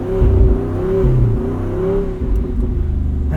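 A 2024 Jeep Wrangler Rubicon 392 engine runs with a low, rumbling exhaust note that rises and dips slightly, loud and close, with no voices.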